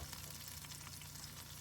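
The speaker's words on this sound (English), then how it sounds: "You can hear she's sizzling." Deer heart sizzles steadily in beef tallow in a pan, a close, continuous crackling hiss at even level with no talk.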